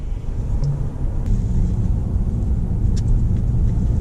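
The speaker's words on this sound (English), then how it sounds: "This car just pulls effortlessly" A Mercedes-Benz E350 in Sport mode accelerates with a loud, steady low engine rumble heard from inside the cabin, and a few faint clicks sound over it.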